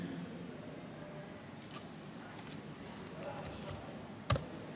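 Soft typing on a computer keyboard while creating a folder, scattered light key taps and clicks, close but quiet, with one sharper louder click near the end.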